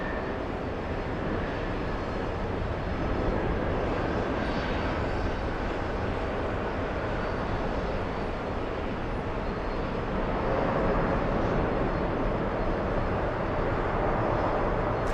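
An American Airlines Airbus A321 landing on runway 22 left at JFK, a continuous broad jet roar heard from a distance that holds steady and swells slightly toward the end.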